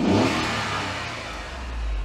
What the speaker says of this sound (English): All the better to hear the tiny little engine.